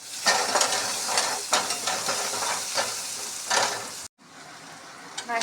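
Onions and tomato sizzle and crackle loudly in hot oil with bursts of stirring, then the sound briefly cuts out before the frying resumes more quietly.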